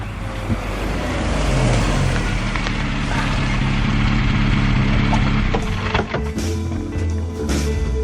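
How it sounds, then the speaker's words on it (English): A car approaching on a road: a steady, loud engine and tyre roar that holds throughout and swells slightly near the end, with some rattling and clatter as it draws closer. "There's a car coming."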